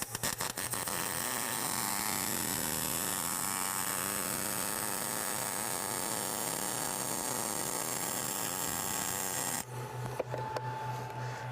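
Tack welding on metal gives a continuous, dense electric buzz and crackle under a steady hum for about nine seconds, then stops abruptly into quieter hum and faint handling noise.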